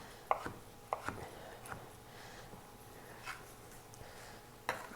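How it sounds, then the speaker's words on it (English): Knife chopping food on a cutting board, a few sharp, isolated knocks spaced irregularly over a quiet kitchen background. "And we're just going to chop."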